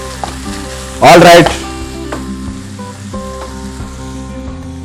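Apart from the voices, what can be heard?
stir-frying chicken with bean sprouts, sizzling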